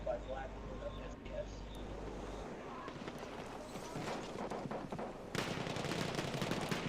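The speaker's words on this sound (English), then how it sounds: "Dino gets sniped off the cannon by Black Moon of SES." Gunfire from the video game Battlefield 1 crackles in sharp bursts and rattles under steady wind-like noise, growing denser and louder toward the end, with a voice faintly present underneath.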